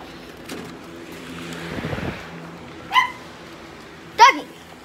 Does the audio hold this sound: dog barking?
yes